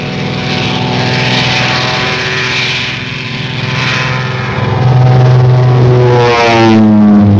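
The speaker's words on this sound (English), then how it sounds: "hundreds of Royal Air Force planes engaged in a non-stop aerial offensive over occupied Europe" Royal Air Force propeller warplanes from a Second World War air offensive over occupied Europe drone loudly and steadily with piston-engine hum, and the pitch shifts as a nearer aircraft passes.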